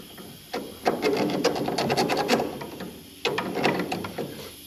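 A new wire brush scrubs hard against the metal of a Pontiac Firebird's front suspension in two bursts of rapid, rasping strokes, close and loud, with a short pause between them.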